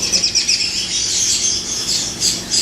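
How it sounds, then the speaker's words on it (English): A group of about six birds fighting outdoors, giving shrill, agitated chirps and squawks in quick overlapping bursts that carry on throughout at a fairly close distance, with no voices. "Been a bird fight."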